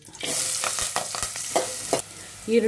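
Curry leaves and onion dropped into hot oil sizzle sharply, with quick stirring scrapes and a bright continuous crackle, loud and near.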